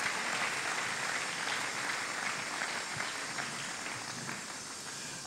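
A church congregation applauding: a continuous, fairly distant wash of clapping fills the space at low level throughout, steady without clear peaks.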